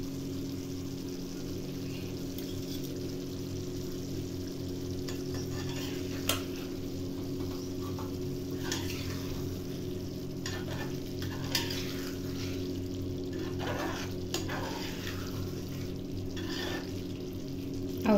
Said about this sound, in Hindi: अब हम 1/2 चम्मच इसमें घी डालेंगे।